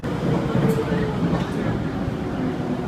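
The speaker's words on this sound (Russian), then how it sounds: "Прямо сейчас мы едем в венском метро." A Vienna metro train rides along with a steady, loud rumble and rolling hum throughout, filling the carriage with continuous noise.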